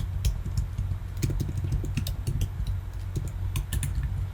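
Keys clatter in a quick, uneven run of clicks on a computer keyboard while a reference is entered into a customs declaration form, close and fairly steady, with a low hum underneath and no talking.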